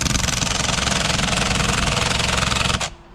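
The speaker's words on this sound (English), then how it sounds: "I got to use the 90-degree impact with an adapter" A 90-degree air impact wrench with an adapter hammers at the airbag nut on a Hyundai Santa Fe, a loud continuous rattling buzz for nearly three seconds that then cuts off abruptly.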